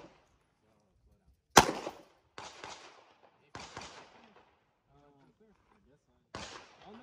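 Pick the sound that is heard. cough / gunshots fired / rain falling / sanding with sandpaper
gunshots fired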